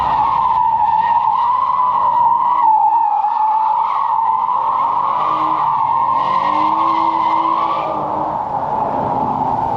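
A car slides sideways with its drift mode on, and the tires keep up a steady, loud, close squeal for the whole stretch. The engine drones underneath.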